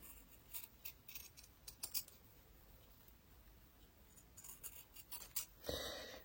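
Scissors snip leftover yarn ends from knitting, a few quiet close snips and rustles in small clusters with pauses between, no talking.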